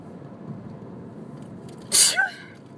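A single sharp sneeze bursts out near the mic over a quiet background hum.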